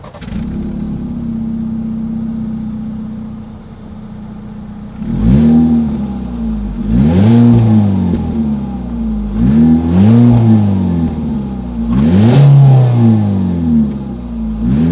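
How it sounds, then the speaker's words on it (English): A 2020 Ford EcoSport 4WD SUV idles steadily at its exhaust, then revs four times in sharp rising-and-falling bursts, close and loud. "As always, here is that exhaust clip."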